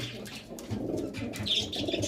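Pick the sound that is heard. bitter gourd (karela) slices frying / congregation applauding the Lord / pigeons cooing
pigeons cooing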